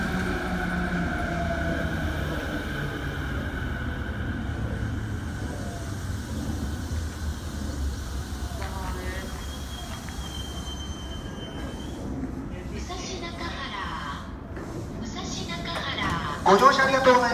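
A Nambu Line commuter train from Kawasaki pulls into Musashi-Nakahara station with a rising mechanical whine and squealing wheels, slowing to a stop, while a Japanese platform announcement talks over the noise.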